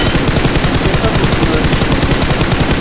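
PUBG Mobile gunfire: rapid, continuous bursts of automatic weapon shots, loud and dense throughout, with no pause between the rattling reports.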